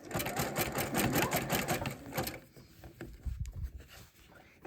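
A sewing machine stitches fabric-wrapped rope trim in a fast, rhythmic whirring burst that stops after about two seconds, followed by quieter handling noises and soft knocks.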